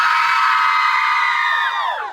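Crowd at an outdoor summer festival cheering and whooping loudly for a performing group, a dense sustained roar of voices with high yells that tails off at the end.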